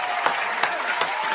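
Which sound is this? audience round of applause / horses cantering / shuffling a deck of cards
audience round of applause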